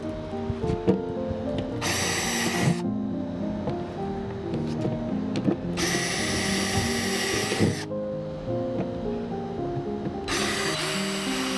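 A power drill whines in three separate bursts, each about a second long, drilling 1/8 and 3/32 inch holes in a bucket, with quieter rattling and handling noise in the pauses between.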